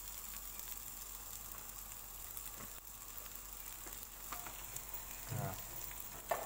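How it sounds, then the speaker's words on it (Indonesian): Finely chopped ginger and garlic stir-fry in a little oil, a faint, steady sizzle with a few light scrapes of stirring, and a brief word spoken near the end. "ditumis sampai matang, sampai harum aromanya."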